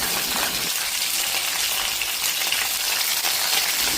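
Spices for tempering frying in hot oil in a kadai, with mustard seeds, cumin, chana dal, urad dal, dried red chillies and curry leaves: a steady, close, dense sizzle holding throughout, with no voices.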